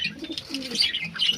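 Fieldback fancy pigeons perched in a coop give soft, low, repeated coos with a few brief chirps, close by and fairly quiet in cold weather.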